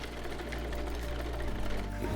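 A sewing machine runs at a village sewing centre with a steady, loud mechanical whir and low motor hum that continues throughout.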